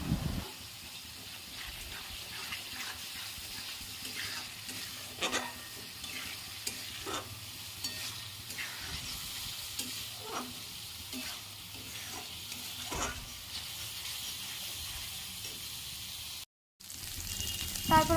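Spice paste with turmeric fries and sizzles in a pan for chital fish kalia, with a steady hiss and repeated stirring scrapes throughout and a brief dropout near the end.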